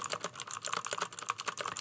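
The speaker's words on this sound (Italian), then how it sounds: "negli switch blu fanno casino di per sé, ascoltate." Mechanical gaming keyboard with blue switches being typed on, a fast, uneven run of crisp, sharp clicks close up, with no talking.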